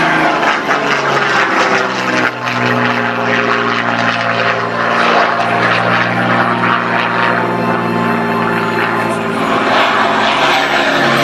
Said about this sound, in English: if you follow the Hurricane as it goes out to the right